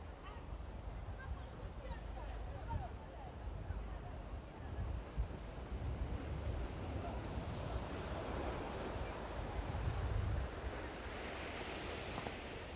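Sea waves wash steadily onto the shore at Merkala beach in Tangier on an evening outing, with continuous surf and wind rumble and a voice talking over it.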